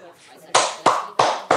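Four sharp, separate hand claps ring out close and loud, evenly spaced, after a soft stretch of faint background noise.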